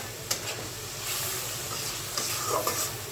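Dried loitta fish is stirred in a hot pan, giving a soft continuous sizzle with scraping stirs and light clinks throughout.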